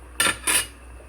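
A metal lid clatters down onto a cooking pot of mussels with shrimp and water spinach, two close, bright clanks about a quarter second apart, with no voices over them.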